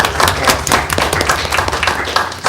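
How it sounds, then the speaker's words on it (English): Applause from an audience at a school board of education meeting, a dense, steady patter of many hands clapping throughout, fairly loud with a busy room feel. "if you would please join me in a round of applause for them"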